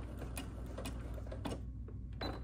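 A sewing machine stitches a border along a blanket, a quiet, continuous mechanical ticking and clatter with small repeated clicks.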